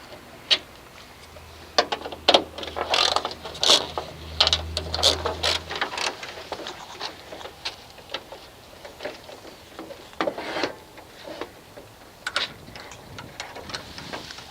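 Ratchet wrench turning a 7mm grille bolt on a 1988-1998 Chevy K1500 Silverado, quick bursts of sharp clicks in uneven runs, close and crisp over a quiet outdoor background.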